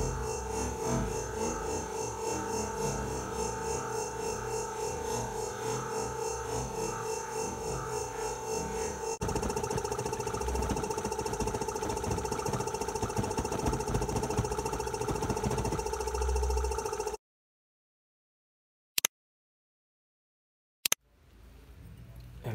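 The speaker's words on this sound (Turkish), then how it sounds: "Kompresörümü açtım." An air compressor runs and bubbles air up through gasoline in a homemade fuel-gas setup, a steady loud mechanical drone with a rough bubbling texture that cuts off abruptly, followed by near silence and two sharp clicks.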